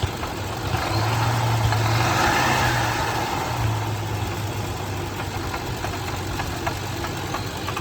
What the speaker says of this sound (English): It's a wonderful rattling noise.